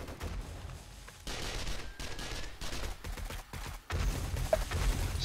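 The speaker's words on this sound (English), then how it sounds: "Those mines are all exploding" Mines explode in rapid bursts during a max-difficulty horde night in the video game 7 Days to Die, a dense, crackling run of blasts and gunfire-like pops that rises and falls, moderately distant, with no voices.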